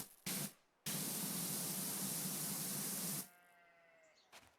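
Sheep bleating in the farm video game Powerwash Simulator 2, a single call following a loud, steady hiss of pressure-washer spray that cuts off abruptly, leaving the faint tonal bleat and quiet ambience.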